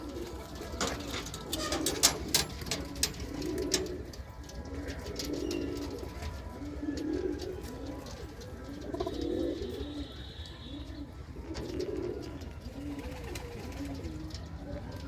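Several pigeons coo in repeated low, throaty rolls at a steady rhythm, with faint chirps and scattered clicks around them.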